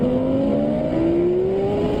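Race car engine in the Roblox racing game Midnight Racing Tokyo, holding a steady loud drone whose pitch climbs gradually as the car accelerates toward top speed, with no other sound over it.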